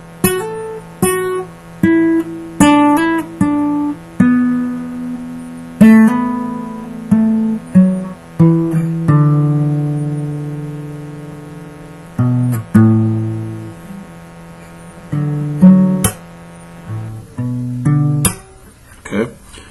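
Slow, deliberate guitar notes pick out a riff, each note plucked and left to ring before the next, played alone at close range.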